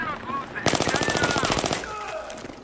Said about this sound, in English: He's downstairs destroying my MAV at the moment.